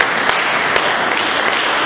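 A church congregation applauds during a sermon in one brief, steady burst of dense clapping that fills the space, with no voice rising above it.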